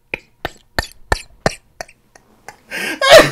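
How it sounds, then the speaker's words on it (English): A string of short, sharp coughs in quick succession from a man, close up, followed by a louder throaty burst of rough exhalation. "Why am I coughing?"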